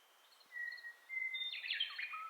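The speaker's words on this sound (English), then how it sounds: "the soothing calls of birds echoing through this canopy above" Soft, thin bird calls sound from a distance in a forest canopy: a few high whistled notes, then a brief burst of chirping near the end.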